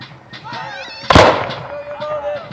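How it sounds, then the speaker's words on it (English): A British musket volley cracks out at a Revolutionary War re-enactment, one sharp, loud crack that rolls off into a brief rumble, heard out of doors among nearby voices and a whistling tone. "They're getting ready for a volley."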